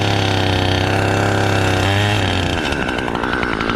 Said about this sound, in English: He uses a chainsaw to cut the top of the tree decisively.